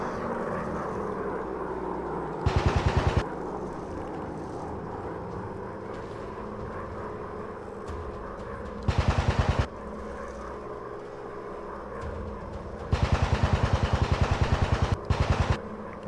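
A WW1 fighter plane's engine drones continuously in a flight video game, broken by three loud bursts of rapid machine-gun fire, the last one long and stuttering.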